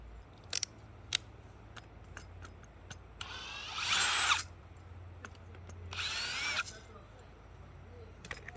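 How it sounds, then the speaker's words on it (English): A small power drill fitted with a bigger bit widens a 1/8 inch hole, giving two short high whirring bursts between scattered light clicks and handling taps, close and fairly quiet. "take a bigger drill, kind of cut the edges."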